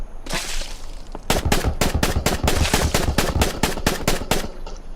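Rapid gunfire from a gun in the video game Island Survival, a long burst of loud sharp shots in quick succession after a brief lead-in noise.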